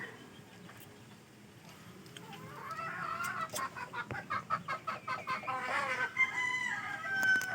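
Chickens clucking close by in a rapid rhythmic series, with other hens chattering around them and faint background noise.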